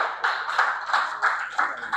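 Audience at a book festival event clapping together, a steady lively round of applause with rhythmic surges, filling the room alone without voices.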